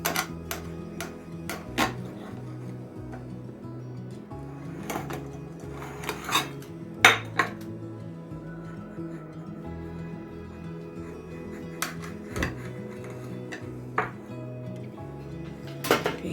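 A knife works through a holiday fruit cake on a plate, producing repeated clinks and scraping taps of metal on dishware at an uneven pace, close and fairly loud with no talking.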